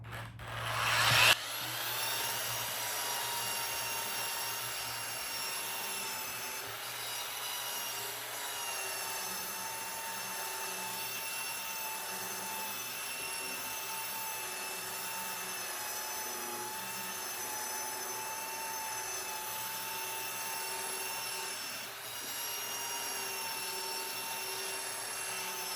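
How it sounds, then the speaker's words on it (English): A power sander on wood runs continuously with a steady high-pitched whine and gritty rubbing noise, loud and close, starting after a brief moment. "it's time for a little bit of sanding."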